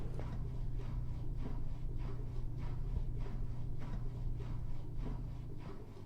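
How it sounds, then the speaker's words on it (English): Machinery hums steadily in a horror video game, a low drone with a regular pulsing thump about every half second, constant and fairly close. "I think it's a machinery of some sort."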